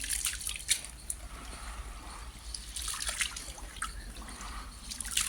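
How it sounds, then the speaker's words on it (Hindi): Dirty water drains from freshly washed low-quality ration wheat as a faint, steady trickle with scattered small drips, quiet and close throughout. "देखिए अभी भी गंदा गंदा पानी निकल रहा है इनमें से"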